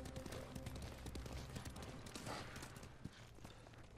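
A horse galloping under a rider in the video game Ghost of Tsushima, a fast, rhythmic hoof patter that runs continuously beneath a busy, faint game soundscape.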